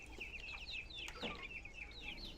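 Chicks and ducklings scurry about a farmyard with a brood hen, giving a run of high, thin peeps and soft clucks close by over a low background hum.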